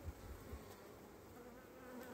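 Honeybees hum around a frame pulled from a hive, a faint, continuous buzz with a few louder low passes near the start and no talking.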